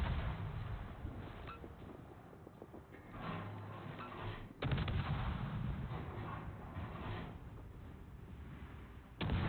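Ship guns fire in a naval video game against a battleship-carrier, giving heavy, muffled booms and rumbling blasts with a sharp jump in loudness midway.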